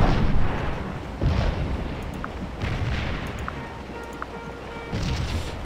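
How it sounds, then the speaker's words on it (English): A cannon shell strikes a road in a video game, heard as a series of heavy, booming blasts and rumbling bursts spread across the moment, loud and close with a noisy low-end roar between impacts. "There's an impact of a cannon shell on the road."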